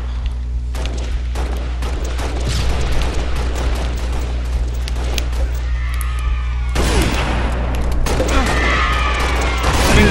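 Rocket explosions and gunfire in Halo Reach multiplayer, with a dense run of loud booms and shots over steady game background noise.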